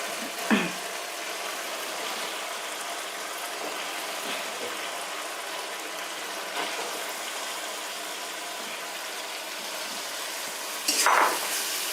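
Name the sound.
chicken added to fried spices, sizzling in the pan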